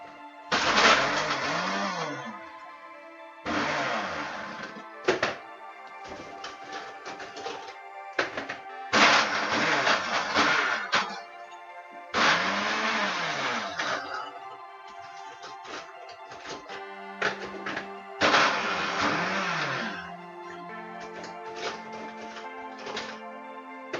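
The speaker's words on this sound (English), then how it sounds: "Now, we're going to turn the blender on," A kitchen blender blitzing chocolate rum cheesecake mixture in several loud pulses, each a few seconds long with a whining motor that revs up and drops off, separated by short quieter pauses.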